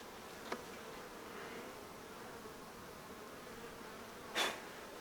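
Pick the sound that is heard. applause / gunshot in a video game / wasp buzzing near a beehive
wasp buzzing near a beehive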